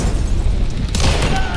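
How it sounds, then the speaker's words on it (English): Bomb blast in Hunt: Showdown at a prison, a short heavy boom with crackling debris right after, loud and close. "Bomb."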